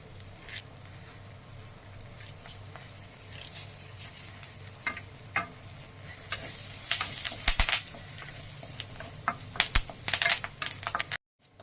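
Curry leaves crackling and sizzling in hot oil for Nattu masala chicken fry, a steady fry with bursts of sharp spitting pops growing busier toward the end, no voices.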